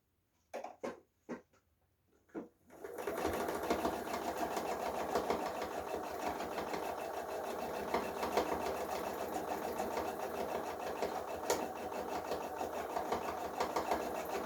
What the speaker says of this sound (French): on va coudre ces deux bandes en même temps